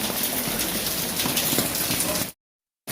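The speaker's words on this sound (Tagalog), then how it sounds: "Oh, maulan." Steady rain in Seville, Spain hisses close by for a couple of seconds, then the sound cuts out abruptly into silence before briefly returning.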